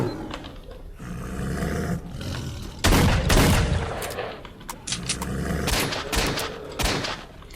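Gunfire aimed at a bloodsucker mutant in S.T.A.L.K.E.R.: Shadow of Chernobyl's swamp, loud bursts of repeated shots cracking in clusters alongside a growling creature roar, rising and falling over several seconds with no talk.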